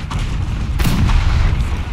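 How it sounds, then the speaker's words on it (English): Napoleonic field cannons fire in a Total War battle at Ulm, with one loud close blast bursting out of a steady roar of distant battle noise. "Those cannons are firing now."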